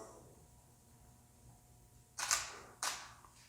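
Two sharp camera shutter clicks, close and distinct, about half a second apart, as photos of a small object on a turntable are taken for photogrammetry, against a quiet room hiss.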